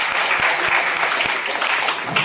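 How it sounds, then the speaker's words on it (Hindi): Audience clapping in a hall as an executive director of the Madhya Pradesh Jal Abhiyan Parishad is welcomed at an official event, a steady close wash of many hands with no speech over it. "आप सभी से विनम्र आग्रह है जोरदार तालियों के साथ।"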